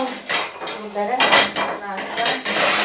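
A chicken fillet is turned in a frying pan while cooking Italian-style with lemon, giving repeated metallic clinks and scrapes of a utensil against the pan in an uneven rhythm, close and fairly loud.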